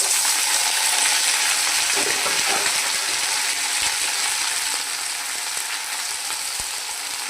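Chopped vegetables, added to potatoes already browning, fry in a pan with a steady, close hiss and sizzle, broken by a few soft stirring scrapes and clinks.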